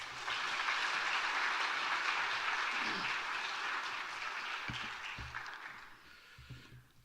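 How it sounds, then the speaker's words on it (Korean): A Korean church congregation at a revival meeting applauds to welcome the pastor. Even clapping from many hands fills the space for about five seconds, then thins out and fades, leaving a few scattered thumps and quiet shuffling. "박수로 환영하겠습니다."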